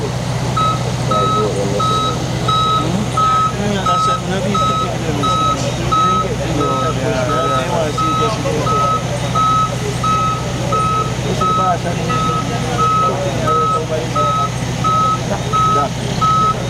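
A truck's reversing alarm beeps steadily and evenly throughout, loud and close, over a low idling engine rumble.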